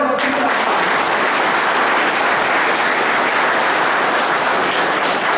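Loud, sustained applause from an audience at a Deendayal Upadhyaya birth-anniversary gathering in Belgaum, a dense wash of clapping that holds steady for several seconds with no speech over it.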